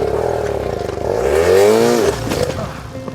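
A motorcycle engine revs hard as the rider opens the throttle, its pitch rising and falling in a loud, close, strained roar over about three seconds with no talk.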